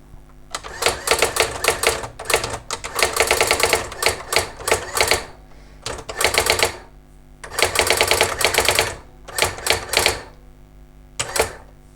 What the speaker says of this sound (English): I think what I need to do is just type a row and we'll see how we go.